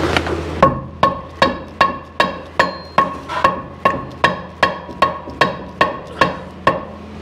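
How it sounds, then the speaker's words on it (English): Fourteen sharp metallic hammer strikes on a gear part of a 1967 Camaro four-speed transmission, in a steady, evenly spaced rhythm, each ringing briefly before the next blow, close by with no talking. "Maybe it's the short whack with the hammer."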